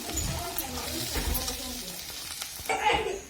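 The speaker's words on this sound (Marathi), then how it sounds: "कांदा बऱ्यापैकी आता परतत आलेला आहे म्हणजे भरपूर असा कलर बदललेला आहे त्याचा" Chopped onion sautéing in oil in a pan for pav bhaji, a steady sizzle with occasional stirring clatter and scraping, close and fairly loud, with some faint background voice.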